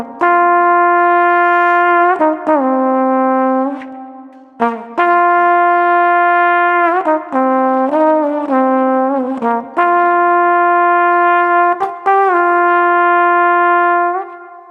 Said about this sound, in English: I go to my Lexicon 224, and I use a large hall with some emphasis on high frequency reflections